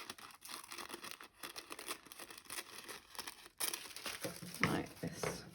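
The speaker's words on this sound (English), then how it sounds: "you use a pair of scissors to chop it off." Paper crinkling and snipping in short bursts as scissors trim paper for a homemade cracker, close by, the cutting growing louder toward the end.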